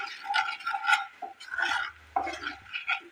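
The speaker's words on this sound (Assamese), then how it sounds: "এতিয়া এয়া শুকান মছলাখিনি এবাৰ এইদৰে তেলখিনি লৰাই লৈছোঁ।" Dry spices stirred through hot oil in a pan, heard as a few close scraping strokes and light metallic clinks, separated by short pauses.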